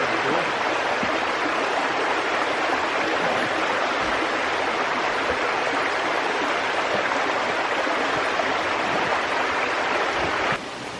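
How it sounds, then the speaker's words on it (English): Steady broadband rush of creek water flowing near a waterfall in bush west of Coffs Harbour, continuous and fairly loud throughout, with no voices. "I've only gone 60 metres and I can hear water."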